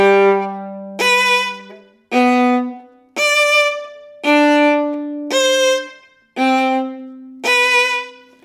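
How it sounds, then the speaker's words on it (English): Violin playing the opening measure of Kreutzer etude No. 7, a bowing study: eight sharply attacked, detached notes of about a second each in a steady rhythm, bright and close, played solo with no talking. "Kreutzer etude number 7 is great for bowing."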